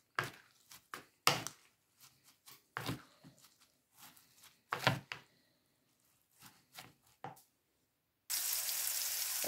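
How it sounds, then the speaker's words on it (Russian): Eggs being mixed into a vegetable pizza batter, with scattered soft knocks and wet stirring taps spaced irregularly. A short burst of hiss or running water comes at the end. "Добавляю яйца и все хорошо перемешиваю"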